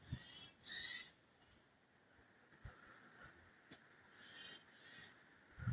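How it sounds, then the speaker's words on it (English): Faint bird calls along a nature trail by Thompson Water, a few brief whistled notes repeating at a distance over quiet outdoor background. "Oh, I can hear a different bird."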